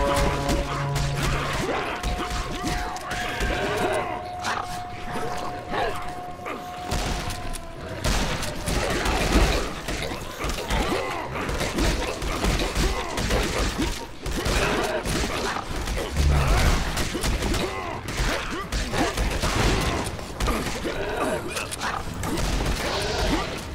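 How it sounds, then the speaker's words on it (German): An explosion goes off right beside the player in the co-op shooter Final Exam during a horde fight, one blast among dense, continuous crashing, gunfire and chaotic combat noise. "Das hässliche Ding ist gerade neben mir explodiert."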